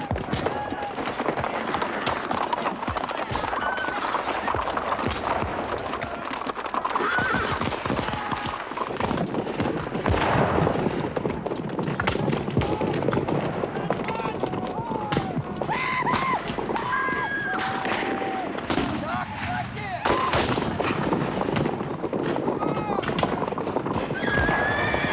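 Cavalry charge sound effects for an American Civil War scene: horses gallop and whinny throughout, with scattered gunshots in a dense, continuous battle din that runs under a narrator's voice.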